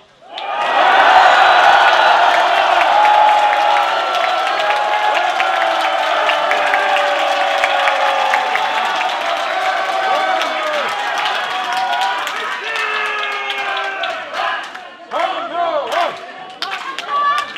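Members of the United Future Party cheer at a political rally, a loud, sustained crowd roar of shouting voices that holds steady for many seconds before breaking into scattered clapping and fading shouts.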